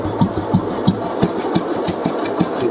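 A 1998 Royal Enfield motorcycle engine idles close by with a steady, thumping beat and regular exhaust pulses, no voices.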